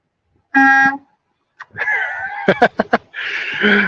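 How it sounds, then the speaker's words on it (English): Truck horn honking loudly up close, one sustained blast followed by a burst of short clipped toots and a longer final honk, with road noise in between. "I honked at him"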